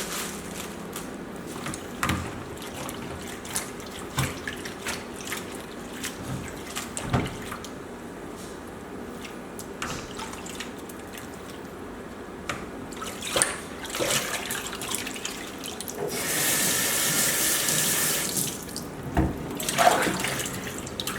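Spinach rinsed under a running kitchen tap in the sink gives a steady, moderate water stream with clatters and splashes of handling, growing to a louder hiss of flow near the end.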